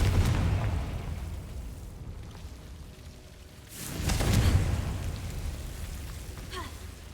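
Fire spell blasts in Hogwarts Legacy, two heavy booming bursts with rumbling, crackling tails, the second swelling louder around the middle and fading into a rainy hiss, with faint game effects and no talking.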